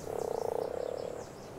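A giant frog creature in the survival game ARK lets out a loud, rapidly pulsing croak that rattles on for about a second before trailing off, with no voices.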